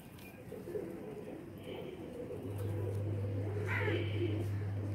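Champion breeder pigeons kept in a loft coo softly and intermittently, faint and fairly close, over a quiet background with a low steady hum rising partway through.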